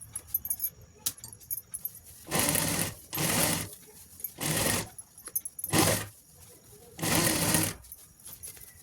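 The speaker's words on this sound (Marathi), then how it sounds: "दुसऱ्या पण साईडनं आपण व्यवस्थित शिलाई मारून घ्यायच्या" A sewing machine stitches along the sides of a pinned piece of fabric in five loud, close bursts of rapid whirring, separated by quiet pauses with small handling clicks.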